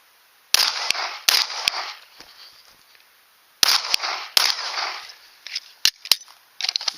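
Handgun shots fired during draw-and-fire shooting drills on a range, several sharp, loud reports in quick pairs and clusters with pauses between strings, each followed by a brief ringing decay.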